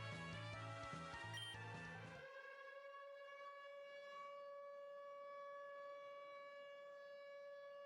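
A civil defense siren wails in the Pokémon Uranium video game during a nuclear power plant emergency, a long sustained loud tone ringing on alone after a brief burst of game music cuts off.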